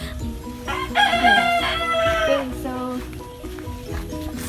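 Chickens at a demo farm in Maribojoc, Bohol: a rooster lets out a loud, drawn-out crow close by, with scattered clucking around it and a voice speaking faintly in the background.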